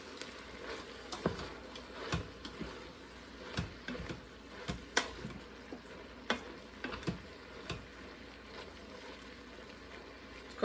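Onions cooking down in a pot for French onion soup, giving a quiet low sizzle broken by scattered sharp clicks and scrapes of stirring, with no talk.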